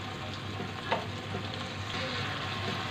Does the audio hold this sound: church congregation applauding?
no